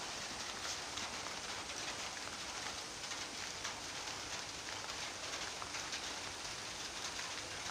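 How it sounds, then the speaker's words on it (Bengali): Light rain falls outdoors on trees and surfaces, a steady soft hiss of scattered drops that holds level throughout, with no voices. "বৃষ্টি এখনও বেশি একটা শুরু হয়নি, এই যে হালকা হালকা বৃষ্টি পড়ছে।"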